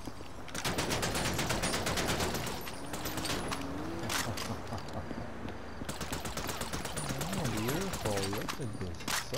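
Rapid bursts of automatic gunfire crackle almost continuously from a weapon in Grand Theft Auto V, with dense repeated shots and mechanical clatter over game sounds and someone talking excitedly throughout.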